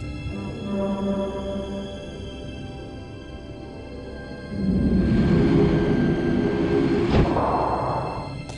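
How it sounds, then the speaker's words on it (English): A crystal tram moves in the adventure video game The Dig, a steady low rumble that swells after a few seconds into a louder rolling whoosh, with a brief sharp transient near the end. "The tram seems to be made of crystal."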